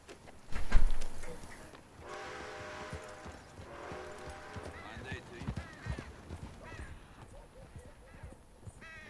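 Hooves of a Kentucky Saddler horse in a video game clip-clop in an uneven rhythm beneath frequent talking, with a loud thump early on and other game sounds mixed in.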